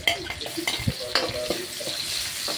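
Onions sautéed in a pan for ginisang mongo make a busy sizzle under close, frequent scrapes and clinks of a spatula against the pan, with no voices.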